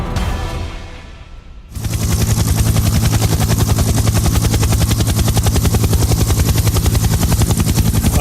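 Loud, close helicopter rotor thumping in a fast, steady beat, starting abruptly after a brief quieter moment and continuing throughout.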